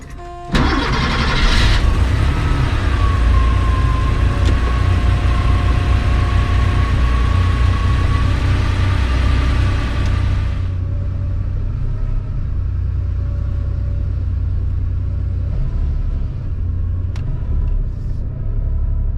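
A 1987 Porsche 911 engine starts with a burst and settles into a loud, steady rumble, then eases to a lower, rougher idle, heard close and continuous throughout.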